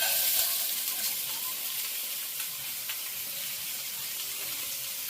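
Frozen peas and carrots hitting a hot frying pan for chicken fried rice, producing a loud, steady hiss of sizzling oil that holds throughout, with no voices.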